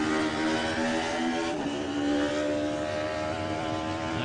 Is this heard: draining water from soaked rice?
no